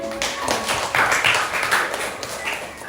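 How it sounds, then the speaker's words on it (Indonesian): A classroom of students claps for three classmates called to the front, with lots of close, crisp hand claps forming a steady, fairly loud patter throughout. "Tepuk tangan untuk mereka bertiga"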